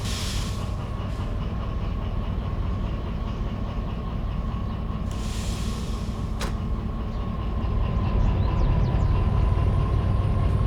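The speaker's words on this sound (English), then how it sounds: "You can hear the parking brake screeching there." In the game Derail Valley, rail wagons roll at low speed with the parking brake on, a heavy continuous rumble and steady squealing tone, brief sharper screeches and a louder swell toward the end.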